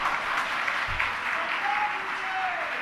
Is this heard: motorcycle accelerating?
no